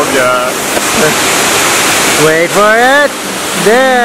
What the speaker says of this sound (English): now this is the waterfall